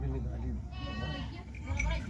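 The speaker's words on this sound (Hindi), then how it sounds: "देखिए इसमें अपना बकरा लदा हुआ है बड़ा वाला, तो ये जा रहा है।" A large goat loaded into a Maruti Alto car gives a short bleat close by, heard over a noisy background with voices and movement around it.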